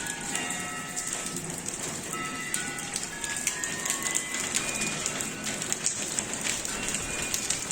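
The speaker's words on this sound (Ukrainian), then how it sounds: "почався дощ" Rain falls at the Kyiv Pechersk Lavra, a steady soft patter with scattered drop ticks and faint background bustle.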